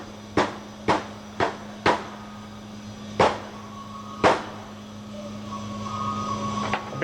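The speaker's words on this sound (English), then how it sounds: "Use your rubber hammer." Sharp, solid taps of a rubber hammer driving in a pump seal, six strikes at uneven intervals, close and distinct over a low steady hum.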